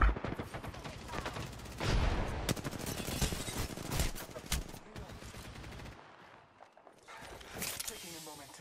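Rapid bursts of automatic gunfire ring out in the battle royale shooter Apex Legends, with several sharp volleys close by, brief pauses between them and a quieter stretch before a final burst.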